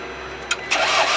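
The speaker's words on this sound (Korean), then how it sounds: "이제 시동이 걸렸어요" A diesel car engine cranks with a brief starter burst, then catches and settles into a steady running note; a short, close and fairly loud sound with no talk.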